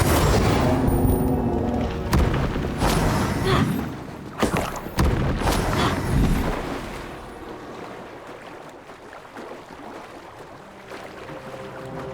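Explosive and fire spells cast in the video game Hogwarts Legacy: a run of loud booming blasts and crackling bursts over the first six seconds, fading into a quieter rumbling ambience.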